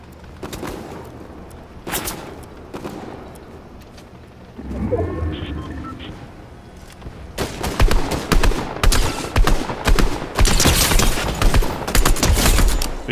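Rapid gunfire in Fortnite: scattered single shots early, then dense, loud volleys of overlapping bursts crowding the second half, with brief low rumbles between.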